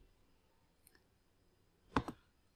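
Two close computer mouse clicks during Windows software installation: a faint single click, then a sharper double click a second later, in a quiet room.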